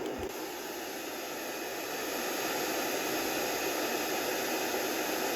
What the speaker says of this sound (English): Let's go to pink noise.